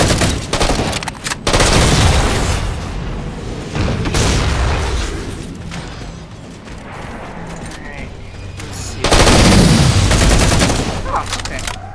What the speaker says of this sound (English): I will take an assault rifle.